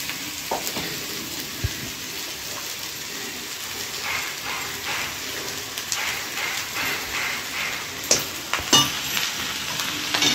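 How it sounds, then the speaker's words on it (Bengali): Rice stirred and fried with cooked mutton, egg and potato for biryani, a steady sizzle broken by scraping and clattering stirs from the pan bottom, louder near the end. "ভাতটা দিয়ে এবার তলা থেকে উপরটা ভালো করে নেড়ে এগুলোকে আমি ভালো করে একটু ফ্রাই করে নেব"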